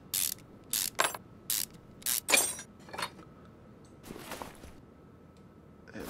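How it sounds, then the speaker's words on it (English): Ratchet clicks while brake calipers are unbolted in Car Mechanic Simulator 2021, several sharp evenly spaced bursts followed by fainter mechanical clatter, close and crisp with no talking. "Take these calipers off."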